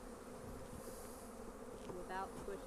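Honeybees swarm around two hives on a pallet in early spring while a beekeeper works them, giving a steady, fairly quiet buzzing hum that carries through the whole stretch with a slight swell near the end.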